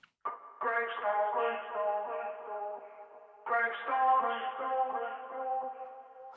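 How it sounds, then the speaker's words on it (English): Isolated vocal delay repeats from a rap track mix, each echo of the phrase sounding darker and deeper in tone than the last, two phrases with trailing echoes heard alone and clean. "So every repeat it dips deeper and deeper into that dark kind of vocal."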